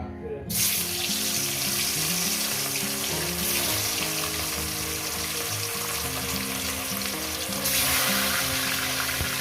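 Katla fish pieces go into hot oil in a pan for an Eid-special poppy-seed dish, setting off a loud, continuous sizzle after a brief quiet start, with a low steady hum underneath throughout.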